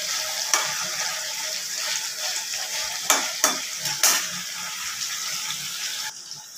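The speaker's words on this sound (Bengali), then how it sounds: "পনিরটা আমি হালকাভাবে একটু ভেজে নেব।" Paneer sizzles lightly in a pan while a spoon scrapes and clicks against the metal in a few sharp strokes, with a steady frying hiss underneath.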